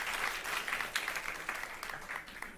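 Audience at an agriculture and climate resilience conference applauds steadily for a few seconds, a dense patter of clapping heard from within the hall.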